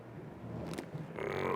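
A frog croaks in a tabletop roleplaying game scene, a low rough call that swells near the end over a steady background, with one sharp short noise just before it.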